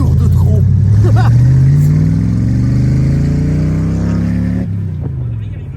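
A car's engine hums loudly and close as it drives and swings around to turn, the tone rising and then easing off before the sound drops away near the end.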